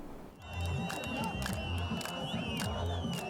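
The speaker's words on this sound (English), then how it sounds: "Jubilant crowds flooded the streets of Damascus on Tuesday" Jubilant crowds celebrate in the streets of Damascus, a loud, sustained roar of cheering and shouting with shrill whistles cutting through.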